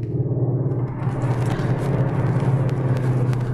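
Inside a 2021 Skoda Octavia RS 2.0 TSI of 245 hp, the engine hums steadily from the cabin, a loud, even drone that grows fuller after the first second, with a few faint clicks over it and no talk.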